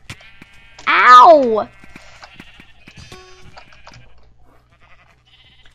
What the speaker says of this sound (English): Guys, I just snuck a sheep